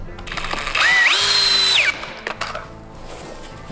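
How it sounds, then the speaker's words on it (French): A power drill drives a screw into a pre-drilled garden shed door, whining up in pitch and holding for about a second before stopping, followed by a few faint clicks. "Et je visse."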